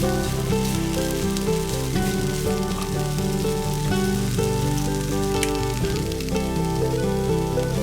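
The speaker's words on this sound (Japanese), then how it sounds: "豆苗がしんなりしてきたらしらすを加えさっと炒めます。" Pea shoots and shirasu sizzle and crackle in a hot pan, a dense, steady frying hiss, loud and close, with faint scraping as they are stir-fried and no talking.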